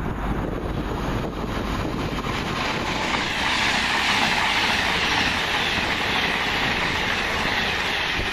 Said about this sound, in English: looks like a pair of super voyagers on 1 Delta 86,